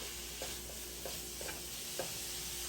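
Bacon renders its fat in a pot under a low, steady sizzle, with about five soft utensil scrapes and taps at a fairly regular pace as it is stirred.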